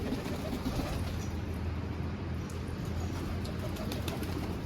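Soft low cooing of pigeons runs steadily through the clip, with a faint flutter of wings amid a constant outdoor background hum.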